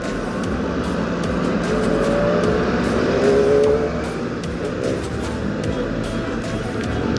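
A Kawasaki ZX25RR four-cylinder sport motorcycle rides with a continuous high-pitched, buzzing engine note heard close up from the rider's position, with throttle blips rising and falling over steady wind rumble.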